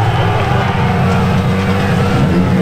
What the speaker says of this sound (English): Start your engine, Jack.